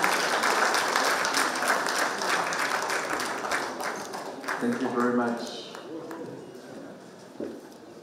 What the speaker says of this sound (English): please put your hands together in welcoming our keynote speaker